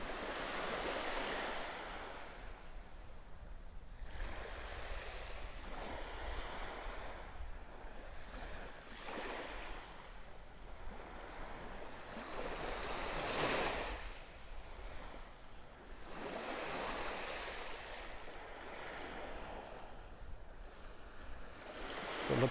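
Ocean waves break and wash onto the beach at North Naples, Florida, on a summer morning with a thunderstorm nearby, a steady rolling surf with surges every few seconds, fairly faint and alone, with some wind rumble.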